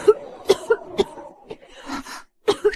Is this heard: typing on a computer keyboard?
no